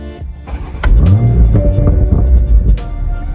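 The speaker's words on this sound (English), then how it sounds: "one of the things that I really like about the car is how the car sounds when we start it up" A BMW Z4 M40i fires up in Sport Plus mode, starter whir giving way to a loud, deep rumble as the engine flares and settles into a steady idle, close and alone.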